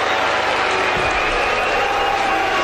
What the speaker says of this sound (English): A crescendo of boos for Serena Williams.